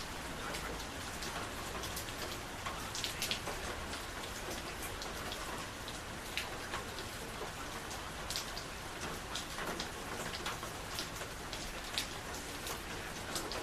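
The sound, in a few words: rain falling outdoors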